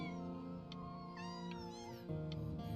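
Cats meowing in the video game Before Your Eyes, several overlapping rising and falling mews over a steady tonal music bed, fairly close and clear, with no talking.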